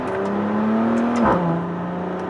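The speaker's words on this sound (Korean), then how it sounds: "한 번씩 변속을 할 때마다 뒤에서 툭툭 터지는 그런 팝콘 배기음" A Maserati Levante engine drones steadily from inside the cabin, then its pitch drops through a gear shift marked by a brief muffled burst from the exhaust before the drone settles again.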